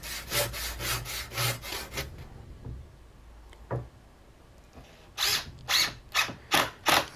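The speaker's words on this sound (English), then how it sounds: "And I'm just cutting this with a panel saw." A hand panel saw cuts through wood for a picket gate in rhythmic, rasping strokes, about seven quick strokes, then a pause with a single knock, then another run of strokes, close and loud with no talk.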